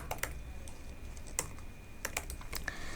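Typing code on a computer keyboard, a string of close, crisp key clicks at an uneven pace over quiet room noise, with no talking.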